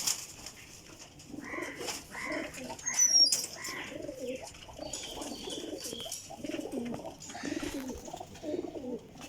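Flying-breed pigeons coo repeatedly in soft, rolling calls at close range, several birds overlapping steadily against a faint background hum.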